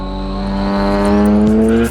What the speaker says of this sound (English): Please meet Jefferson Kirk's Mazda RX-8.